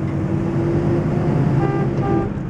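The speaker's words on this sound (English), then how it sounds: "Horn works, that's good." Two short car horn toots from a 1955 Cadillac Series 62 sound faintly over the steady roar of the moving vehicle's cabin and road noise.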